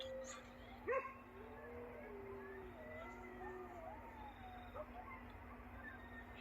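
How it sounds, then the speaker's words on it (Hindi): Dogs yip and howl faintly in the distance at night near a graveyard, with scattered wavering cries over a low steady background hum. "ये देखें बीच में गिद्दड़, कुत्तों की आवाज़ें और बेशुमार कुत्ते।"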